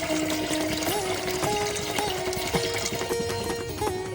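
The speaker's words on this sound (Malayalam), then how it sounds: "ഈ ടാപ്പ് ഇങ്ങനെ തുറന്ന് കുട്ടകത്തിൽ വെള്ളം നിറയ്ക്കാം." Water runs from a tap into a steel pot built into a wood-fired stove, a continuous pouring stream with ringing tones and faint clinks throughout.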